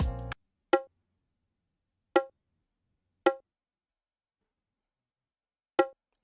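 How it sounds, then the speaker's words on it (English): Bongo drum sample from a beat, a handful of single resonant hits spaced irregularly apart, each ringing briefly and clearly, alone after a short burst of other sound at the start. "this bongo drum right here."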